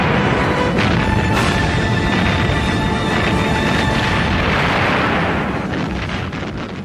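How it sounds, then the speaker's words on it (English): Fourteen-inch guns of the battleships Kongo and Haruna bombarding Henderson Field: a loud, unbroken roar of blasts and rumbling impacts that eases slightly toward the end. "Henderson Field now came under bombardment from land and from the 14-inch guns of the battleships Congo and Haruna"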